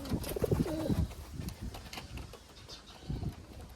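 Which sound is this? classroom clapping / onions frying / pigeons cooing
pigeons cooing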